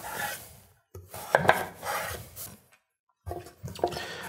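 A knife slicing squash bulbs on a cutting board, giving bursts of close rasping, scraping cuts separated by brief pauses, with no talking.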